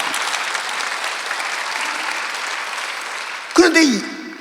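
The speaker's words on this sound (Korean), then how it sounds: "이것이 하나님 주신 우리의 은혜인 걸 믿으면 박수 치며 누르시기 바랍니다." A church congregation at a Sunday worship service applauds with steady, dense clapping for several seconds before it cuts off and a voice begins speaking over the fading room.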